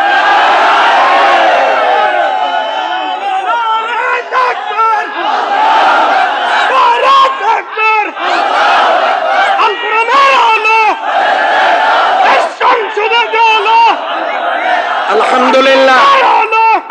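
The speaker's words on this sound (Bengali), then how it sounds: "দুহাত তুলে একবার তাকবীর দিয়ে দেখাতে হবে।" A large crowd at an outdoor political rally in Rangpur roars in unison, loud and sustained for about seventeen seconds, the massed voices chanting and shouting the takbir over and over with swelling bursts.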